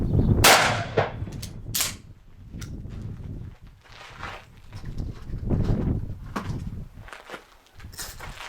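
Shotgun firing a buckshot shell of small mini buckshot through a full choke: a sharp, loud blast right at the start, followed by several further crisp bangs and clanks spread through the clip.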